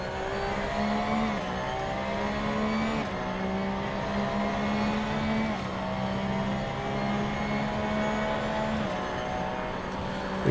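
Race car engine droning steadily at the Red Bull Ring in the Assetto Corsa video game, a loud continuous whine with small pitch shifts as gears change, heard alone without talk.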